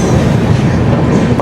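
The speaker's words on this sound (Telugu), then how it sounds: "పక్కనే ఉండే ఒక లోకల్ ట్రైన్" A local train runs past on an adjacent track beside a platform, a dense, loud low rumble of wagons rolling steadily through the short stretch.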